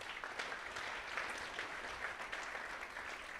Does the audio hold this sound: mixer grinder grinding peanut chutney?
no